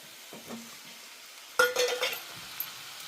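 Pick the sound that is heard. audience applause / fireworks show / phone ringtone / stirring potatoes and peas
stirring potatoes and peas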